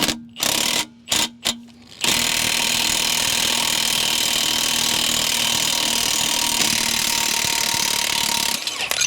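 An impact wrench hammers on a press tool pulling the front wheel bearing of a Toyota Avalon, a loud, steady rattling whir sustained for several seconds after a few short bursts.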